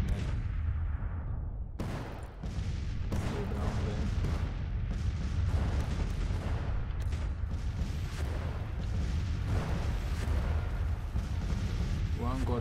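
Cannon and rifle fire crash without pause through a Civil War battle at Jefferson City in the Grand Tactician strategy game, with dense overlapping booms and volleys at steady high loudness and no letup.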